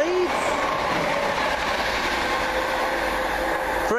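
Chiltern Railways passenger train 1R22 from London Marylebone to Birmingham Moor Street rumbles past at Widney Manor, a steady rolling clatter with brief wheel squeals at the start and end.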